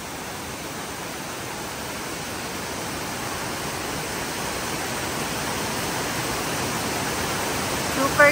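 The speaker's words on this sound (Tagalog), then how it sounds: "Napakaganda ng falls." Anna Ruby Falls in Georgia pours with a steady, broadband roar of falling water that holds constant throughout, with a brief louder bump at the very end.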